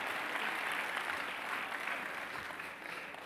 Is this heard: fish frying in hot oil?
no